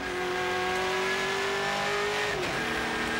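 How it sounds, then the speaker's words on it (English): A race car engine screams at high revs, holding a rising tone, then drops sharply as it shifts up into third gear and keeps pulling hard, loud and close, with no voices. "you hear that gear change up to third gear"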